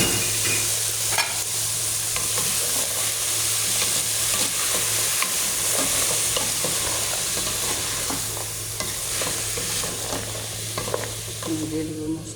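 Peas frying and being stirred in a pan, steady sizzle with repeated scraping stirs throughout, a low hum beneath, no voices.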